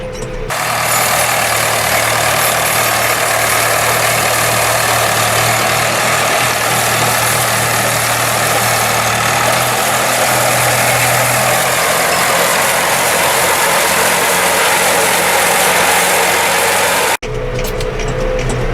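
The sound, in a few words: vintage Nuffield tractor engine running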